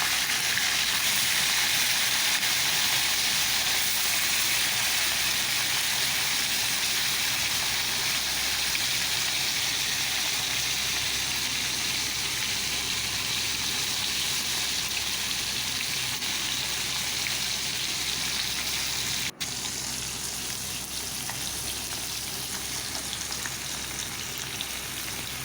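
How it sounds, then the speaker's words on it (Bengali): Fish frying in hot oil in a wok, giving a steady dense sizzle and crackle that carries on loudly and evenly, with one brief break near the end and no voices. "মাছগুলো দেওয়ার পর এক সাইড ভালোভাবে ওটাকে ভাজতে দিতে হবে।"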